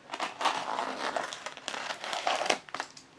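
A penknife slices through brown packing tape sealing a cardboard box holding a Le Creuset stoneware butter dish. The tape makes close, crinkly tearing and scraping sounds in several short bursts.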